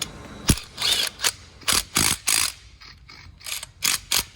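Quick clicking ratchet strokes tightening valve cover bolts on a Fox body 5.0 Mustang Ford 302, a string of short, close bursts with brief pauses between them.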